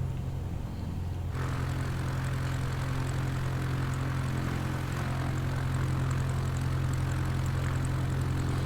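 A propeller aircraft engine in the X-Plane 11 flight simulator throttles up for takeoff on a short runway, a loud, steady low drone with a continuous hum that brightens and thickens after the first second and holds constant throughout.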